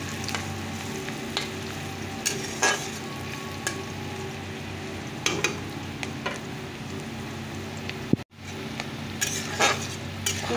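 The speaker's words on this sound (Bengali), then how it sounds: "চলো পেঁয়াজটা একটু ভাজা ভাজা করে নিই।" Onions frying in a pan over a tempering of cumin, green chili and garlic, with a continuous close sizzle and occasional stirring clinks against the pan. The sound briefly cuts out near the end, and no one speaks.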